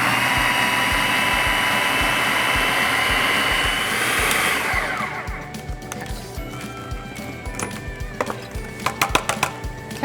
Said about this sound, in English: So we're going to blend this for about 1 minute